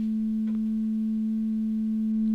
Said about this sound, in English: So here I've brought back our original 220 Hz sine wave, and now the modulator will be another sine wave that has a very low frequency.